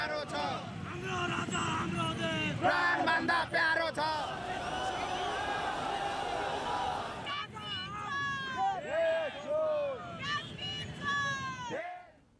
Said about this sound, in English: The huge crowd, as you saw, chanted slogans